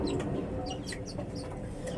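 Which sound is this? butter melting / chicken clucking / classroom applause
chicken clucking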